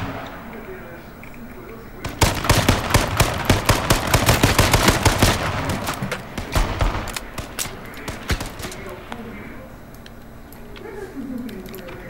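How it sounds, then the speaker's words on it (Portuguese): Rapid bursts of automatic gunfire in the online shooter game H1Z1 crackle loudly for several seconds, then taper to scattered shots, with players talking over the action. "Já estás aí aos tiros, não é?"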